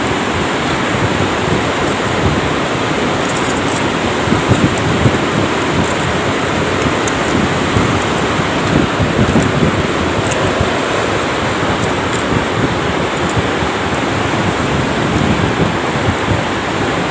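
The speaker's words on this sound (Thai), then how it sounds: "ลมทะเลแรงมากเลยครับ" Strong sea wind at a beach roars steadily and loudly, a dense, unbroken rush mixed with the wash of surf, with no talk and no break for the whole stretch.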